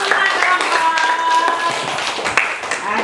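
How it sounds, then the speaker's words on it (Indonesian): A classroom of students applauds all the groups, with dense, continuous hand clapping that stays fairly loud and close throughout, alongside some voices. "Tepuk tangan untuk semua kelompok."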